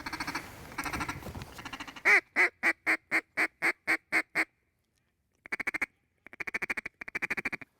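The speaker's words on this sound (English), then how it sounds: "it's so cool watching these ducks come into this timber" Mallard ducks quacking over flooded timber in Arkansas: a busy jumble of calls at first, then a rapid loud series of about ten evenly spaced quacks, a pause, and two more bursts of repeated quacks, close and clear.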